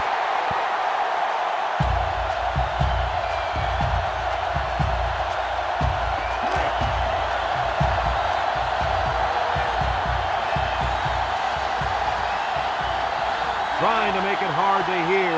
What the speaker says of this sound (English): The defense looking to make this crowd a factor.